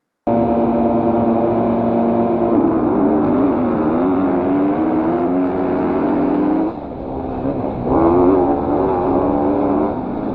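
Several motocross bikes at a race start, engines roaring loud and close in a dense revving drone that holds steady, dips briefly, then swells again.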